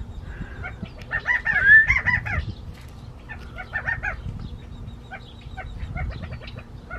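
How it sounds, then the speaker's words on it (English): Young birds in a nest, with a parent likely nearby, give several bursts of chirping and squawking calls over a constant outdoor background hum, moderately near and without talk. "I have these like baby birds, so I'm gonna show you guys."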